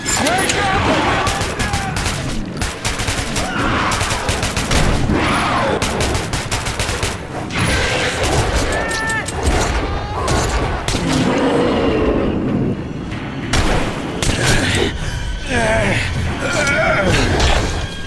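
Dense, continuous gunfire in the game Metro 2033, loud volleys and rapid shots layered with frantic shouting voices throughout a chaotic close-range fight.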